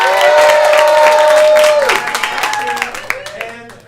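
An audience at a live improv theater game applauds. A voice carries over the start, then clapping and a few cheers thin out into scattered, fading claps.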